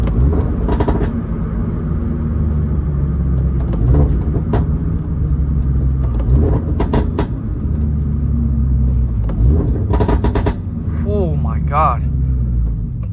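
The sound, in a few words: Toyota GR86 exhaust pops and burbles while driving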